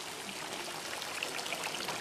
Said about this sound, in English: Cool little water fountain here.